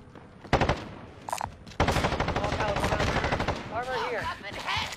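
Rapid automatic gunfire in Call of Duty Warzone, a battle royale shooter, with a sharp single shot, then sustained loud bursts of rifle fire for several seconds and some speech mixed in.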